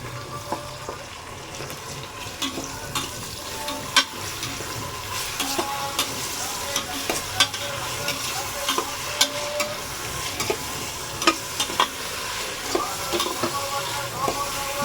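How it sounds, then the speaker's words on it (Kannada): Tomatoes sizzling in a frying pan for a biryani while being stirred, a steady close frying hiss with regular scraping and clicking of the spoon against the pan, no talking. "ಇವಾಗ ಟೊಮೊಟೊ ಹಾಕ್ಕೊತೀನಿ"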